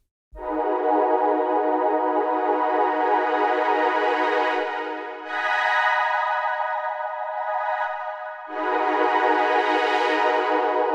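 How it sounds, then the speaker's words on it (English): Synth Lore synthesizer string sounds play sustained, bright pad chords, one long held chord after another, with a brief dip between each, clean and alone. "Synth Lore are some nice string sounds."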